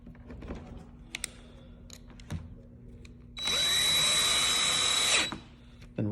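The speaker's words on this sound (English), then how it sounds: "He's going to pull out the screws, add the red Loctite to the tip, and then reapply the screw." A power drill spins out a screw from a lid, a loud sustained whir of about two seconds, preceded by faint clicks and handling of the tool and parts.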